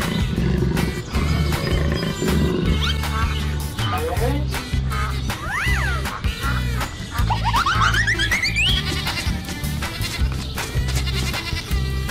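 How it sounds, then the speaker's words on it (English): A jaguar gives loud, rough roars mixed with other animal-like calls, rising squeals and busy music-like tones, with a voice speaking briefly. "Jaguar."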